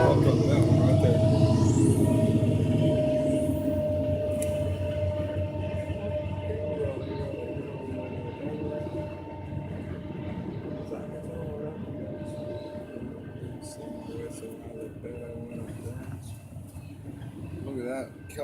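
Train passing along Alcoa Road, a loud continuous rumble and rattle of rail cars rolling by close, gradually easing over the span, with people talking over it.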